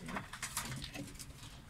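Pigeons cooing inside a coop built from a garbage container in Çayırova, soft, low, repeated coos with light fluttering and shuffling close by, faint and without talk.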